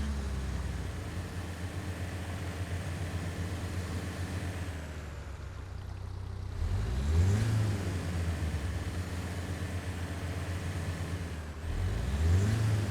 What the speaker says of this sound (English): let me start the engine then, see if I can get up on the bank